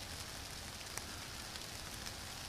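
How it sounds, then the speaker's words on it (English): Rain falls steadily, a soft, faint, even hiss with scattered tiny drop ticks and no voices. "Yeah, it's raining"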